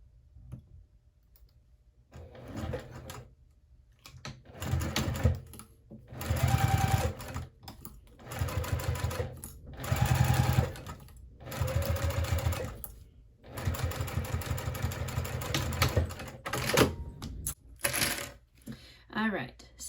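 A home sewing machine fitted with a narrow zipper foot stitching close to zipper teeth on a small circular wristlet bag, running in several bursts of fast, even mechanical chatter separated by short pauses.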